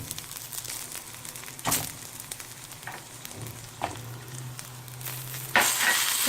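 Tomato and snake gourd seeds sautéing in a pan give off a continuous soft sizzle, with scraping stir strokes and a few sharper knocks, swelling louder near the end.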